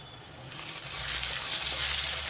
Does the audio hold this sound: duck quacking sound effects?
no